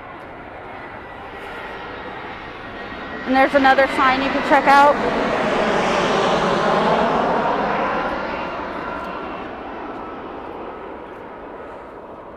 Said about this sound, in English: Plane coming.